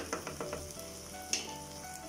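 Onions and masala spices fry in a pan for Madurai-style pepper chicken, giving a steady close sizzle and crackle with a few light stirring scrapes over it.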